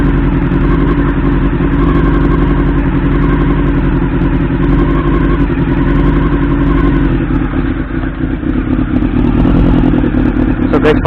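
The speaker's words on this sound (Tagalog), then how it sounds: "pakinggan po natin yung tunog ng makina at saka muffler" A 1989 Honda CB-1 with an inline-four engine idles loud and close on a cold, rainy day as it warms up, its exhaust note from the muffler a steady, even burble throughout.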